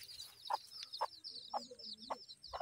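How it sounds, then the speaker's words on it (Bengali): Small young chickens clucking near a rural Bangladeshi home, a handful of short clucks spaced about half a second apart over a faint steady background hiss. "মুরগিগুলো খেলা করতেছে, ছোট্ট ছোট্ট পিচ্চি"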